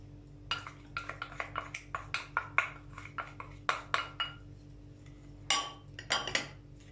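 A spoon clinks and scrapes rapidly against a bowl while powdered sugar is mixed with grated orange zest, close and quiet with no voices.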